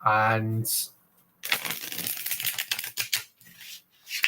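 A tarot card deck is shuffled by hand in bursts of crisp riffling and slapping, close, after a short opening sung or hummed note, with brief pauses between shuffles.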